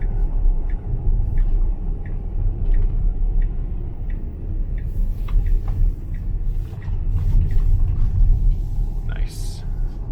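A Tesla running FSD Beta 10.3.1 drives along secondary streets, with a steady low road and tire rumble heard from inside the cabin and a few light ticks.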